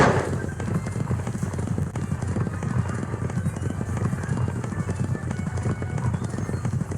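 Hooves galloping in a horse racing video game on an Acer computer, a steady dense clip-clop patter running throughout at an even level, with faint background noise.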